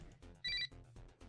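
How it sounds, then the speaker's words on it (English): A wrist-worn coil communicator in a video game gives a short, bright electronic ringtone-like chirp, brief and clear over a soft background. "the coil on my arm beeps"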